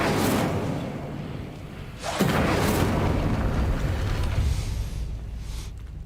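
An Incendio fire spell from Hogwarts Legacy bursts out as a sudden whooshing blast and then roars on as a sustained rushing flame, loud and close.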